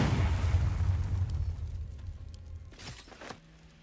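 A fire spell goes off in Baldur's Gate 3 as a loud, low burst that rolls on, then fades over a few seconds, with a couple of sharper crackles near the end.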